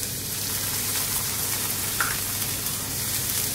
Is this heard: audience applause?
no